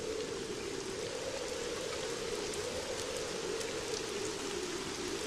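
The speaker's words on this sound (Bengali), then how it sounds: "আর বৃষ্টি থামবার তো কোনো নামই নেই।" Heavy rain pours steadily during a storm, a dense, even hiss of drops drumming on surfaces that continues unbroken and fairly loud throughout.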